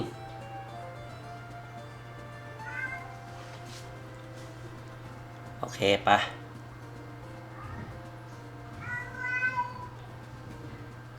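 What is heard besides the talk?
cat meowing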